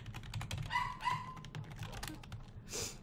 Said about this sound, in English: I don't blame the dog for barking and missing its mom and everything